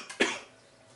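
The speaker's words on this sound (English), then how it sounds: "I'm recovering from a cold here, so I may be coughing." A single sharp cough from a woman recovering from a cold, close and brief, trailing off into quiet room tone.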